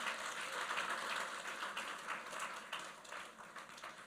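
An audience at a civil service press launch clapping together, a steady, fairly faint patter of applause lasting a few seconds.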